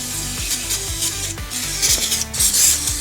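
Scrubbing and rasping on a Mercedes W203 C-Class brake caliper bracket, a steady rubbing scrape with repeated strokes and short pauses, close and fairly loud with no talking.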